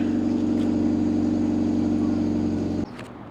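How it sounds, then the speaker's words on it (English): Steady low rumble of car traffic outside, a continuous engine drone that cuts off abruptly near the end, with no talking. "you hear all the noise from the cars and everything else in between."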